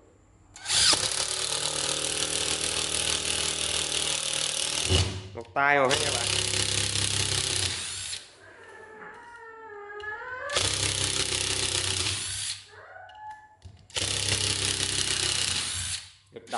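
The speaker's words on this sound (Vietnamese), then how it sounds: "Bắn vít 5 phân. Vít 5 phân xuống gỗ." National cordless impact driver sinking 5 cm screws into wood, with bursts of loud whirring and rapid hammering impacts lasting several seconds each, separated by pauses where someone speaks briefly.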